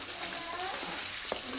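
Chopped onions frying in hot ghee for pakora kadhi, a steady soft sizzle with faint stirring scrapes and one brief clink near the end, no voices.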